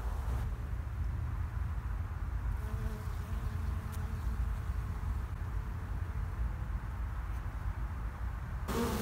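A steady, dense insect buzz of many honey bees droning together outdoors on flowering alfalfa during a nectar flow, continuous and even throughout with no voices.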